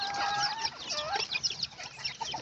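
Young chickens raised as backyard poultry cluck and peep in a steady, busy chorus close by, with high chirps overlapping throughout and no voices.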